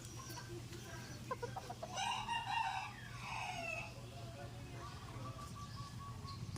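Pet chickens after a bath cluck and crow at a moderate distance, one rising crowing call standing out over a steady low background hum.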